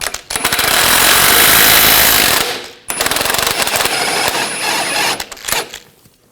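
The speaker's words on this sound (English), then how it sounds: "Using a 21mm socket, take this bolt out." An impact wrench with a 21mm socket breaks loose and spins out a rear control arm bolt on a 2000-2006 BMW X5, two loud sustained bursts of rattling hammering, the second shorter and tapering off.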